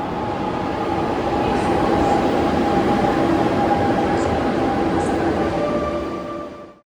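Inside a moving Barcelona metro train, a steady rumble of wheels and carriage noise carries a faint tonal whine, with a few light clicks, before cutting off abruptly.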